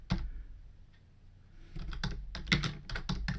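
Computer keyboard keys being typed to enter a folder name, a quick burst of close, crisp clicks after a short pause, with no talking.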